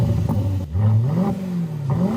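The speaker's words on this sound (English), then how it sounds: "for a car to produce such an amazing sound is simply divine" A 680-horsepower car engine revs hard on a highway, a loud sustained roar that dips briefly and then climbs again in pitch, heard from inside the car with no talking.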